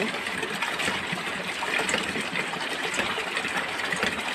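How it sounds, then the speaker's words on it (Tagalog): A water pump runs steadily, drawing up brown water until it clears, with a constant churning engine-like drone and rushing water noise filling the clip at moderate level, no voices. "Kaya binubomba muna natin hanggang luminaw"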